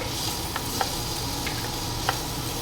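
Garlic frying and being stirred in a pan after onions have turned translucent: a steady close sizzle with a few light scrapes and clicks of a utensil against the pan.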